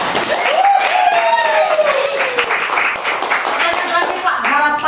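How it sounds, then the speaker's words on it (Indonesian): Audience applause at a vocational training centre event in Samarinda, steady clapping from a group of people sustained for several seconds while a voice speaks over it. "Luar biasa, tepuk tangan semua."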